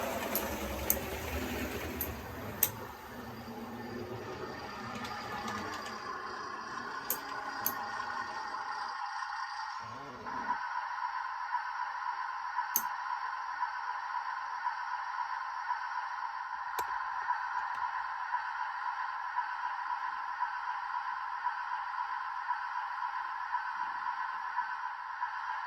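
Sound capsule of a vintage Triang Hornby diesel Pullman model train, a steady electronic droning whine with a buzzing motor hum that continues unbroken for a long stretch, with a few faint clicks and no speech.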